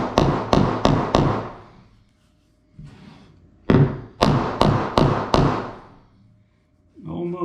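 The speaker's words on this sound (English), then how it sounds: "a trick with just a block of wood and a hammer" Hammer blows on a wooden block, a burst of three sharp thuds, a single knock, then a rapid run of five or six strikes, all close, loud and dry, separated by brief silences.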